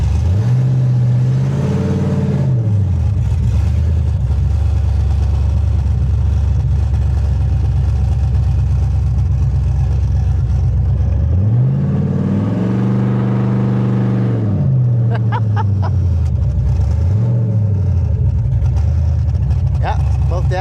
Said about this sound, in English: She's a loud truck.